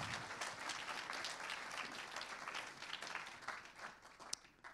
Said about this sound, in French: Vos applaudissements pour l'éco-quartier de la Duchère.